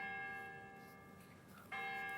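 Church bells ring with a sustained, resonant tone that slowly fades, then a fresh strike near the end brings the ringing back at full strength; the bells are fairly faint and distant.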